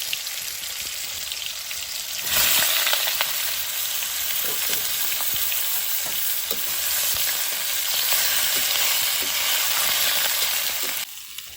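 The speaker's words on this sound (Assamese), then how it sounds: "কঁঠালখিনি ফ্ৰাই কৰি থাকোঁতেই দি দিম ইয়াতে নিমখ।" Boiled jackfruit frying in a hot pan, a steady loud sizzle running almost the whole time with scattered pops and light stirring, no voices.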